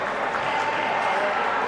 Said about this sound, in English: the crowd is wild here at the indoor facility right now